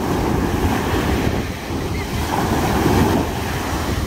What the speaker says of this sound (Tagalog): Parang nagtumbling na alon.